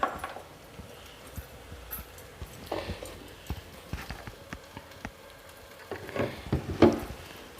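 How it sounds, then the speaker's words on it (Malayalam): Coconut oil and curry leaves go into a pan of jackfruit puzhukku, giving a soft sizzle with scattered stirring clatters and spoon knocks, louder near the end. "കുറച്ച് വെളിച്ചെണ്ണ ഒഴിക്കുക."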